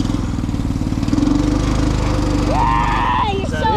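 A 5hp go-kart engine chugs steadily with throttle applied, a loud rumbling drone that holds throughout as voices talk over it, with a brief higher whine near the end.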